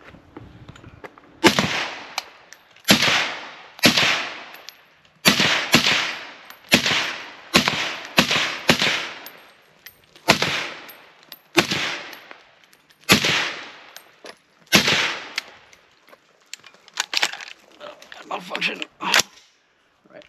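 Ruger SFAR rifle with a 16-inch barrel firing remanufactured ammunition: about fifteen loud, sharp reports at an irregular pace, some in quick pairs, each with a short decaying echo.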